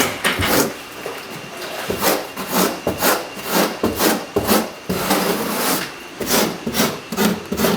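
Trowel scraping and smoothing thinset mortar over a Kerdi waterproofing membrane, with repeated rhythmic rasping strokes, close and fairly loud, alone without talk.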